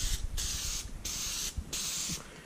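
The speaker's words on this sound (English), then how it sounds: "spraying from a distance so that it is very even on the filter." A can of K&N filter oil spraying a light, even coat over a cotton reusable air filter, three sustained hissing blasts in a row with short breaks, up close and alone.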